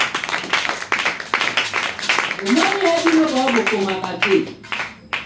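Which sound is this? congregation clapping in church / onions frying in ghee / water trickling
congregation clapping in church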